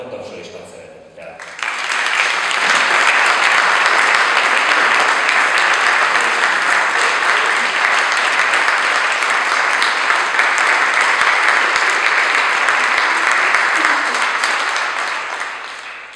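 A concert hall audience applauds the Liszt Ferenc teachers' choir, dense sustained clapping that swells in after a moment, holds loud and even for over ten seconds, then tapers slightly.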